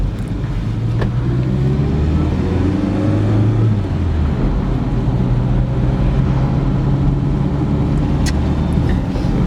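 A Renault Super 5 running after starting, its small engine droning steadily inside the car and rising in pitch as it accelerates, loud and continuous with no talking.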